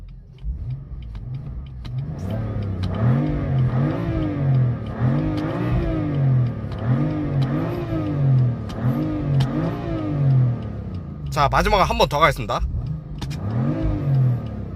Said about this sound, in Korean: 이 BMW M4 F83의 배기음 어떠십니까?